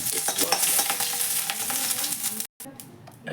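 Mustard seeds, curry leaves and dried chilli sizzle in hot oil during a tempering for a potato masala dosa filling, a dense crackling hiss with a stirring scrape before it cuts off sharply near the end.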